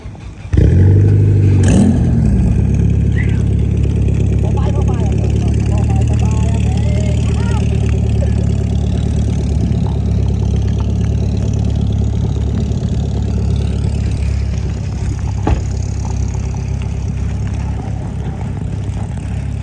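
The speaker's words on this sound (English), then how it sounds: "Let's hear the cold start." Supercar engine cold start with a sharp bark and rev flare, then settling into a loud, steady, rumbling idle that carries on throughout, with voices talking faintly beneath it.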